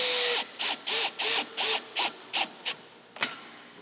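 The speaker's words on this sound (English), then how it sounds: "then we're going to utilize the drill to finish this off" A power drill tensioning a cable railing runs in about eight short, loud bursts in a steady rhythm, then gives a final sharp click near the end.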